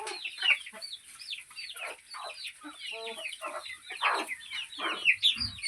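Several free-range native chickens cluck and murmur close by while eating weeds and fodder from the field, a busy overlapping chatter of short calls with a few louder squawks as they peck and feed.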